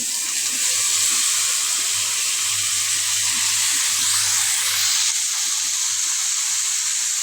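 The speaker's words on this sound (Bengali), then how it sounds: "কচু শাকের পেঁয়াজ রসুনটা ভালোভাবে আমি ভাজতে নিচ্ছি লাল লাল করে" Onion, garlic and taro greens fry in a pan with a steady, dense sizzling hiss that stays even and close throughout, with no voices.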